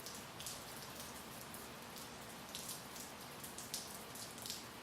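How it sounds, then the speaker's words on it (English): Steady rain falls close by, a dense hiss of drops with occasional sharper spatters, continuous and fairly faint throughout. "Interesting rain."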